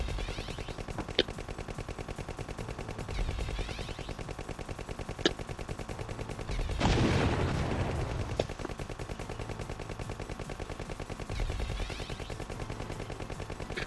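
Gunfire in Contra Adventure crackles as rapid, continuous shooting, with sharp isolated blasts and a louder explosive burst in the middle, all without talk.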